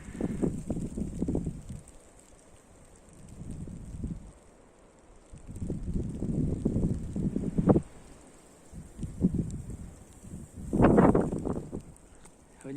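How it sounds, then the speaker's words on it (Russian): Strong wind gusting through a snowstorm high on a Crimean mountain, Southern Demerdzhi, roaring in several loud surges with quieter lulls between them, no talk. "Метель усилилась, ветер усилился."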